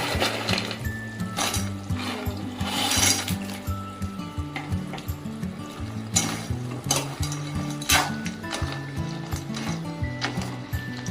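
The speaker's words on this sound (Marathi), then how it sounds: "आपण ह्या अशा पूर्ण व्यवस्थित मिक्स करून घेऊया पाकामध्ये" Green chilies stirred into hot sugar syrup in a pan over low heat give a steady soft sizzle with scraping and clinking from the spoon throughout, close and continuous.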